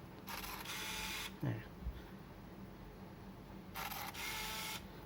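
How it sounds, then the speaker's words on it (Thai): Olympus AFL-T compact film camera running after the shutter is pressed, two close whirring motor bursts about three seconds apart with a brief click between them, faint and alone. "แตะลงไป เนี่ยกล้องมันทำงานเร็วมาก"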